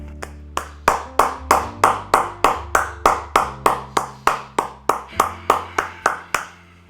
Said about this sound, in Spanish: Este aplauso es tuyo